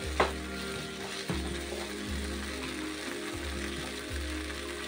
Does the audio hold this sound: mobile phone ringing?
no